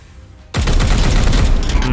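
Sustained automatic gunfire erupts abruptly in a Warhammer 40,000: Chaos Gate - Daemonhunters battle, a loud, dense barrage of rapid shots that keeps going without pause.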